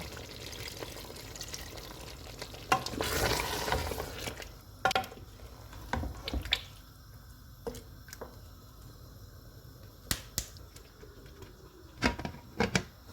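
Half a cup of water is poured into marinated mutton frying in a pan, giving a burst of hissing sizzle followed by scattered clinks and bubbling, moderately close with no talking.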